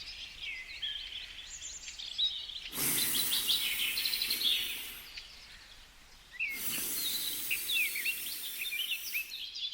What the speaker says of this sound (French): Vous avez entendu les gazouillants chanteurs des oiseaux?